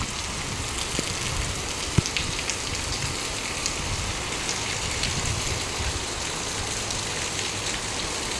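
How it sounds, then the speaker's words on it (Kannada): Steady rain falls on an open courtyard already pooled with water, a constant even patter with a few sharper drips close by, no talk. "ನಮ್ಮೂರಿಗೆ ಮಳೆ ಬರ್ತಾ ಇದೆ."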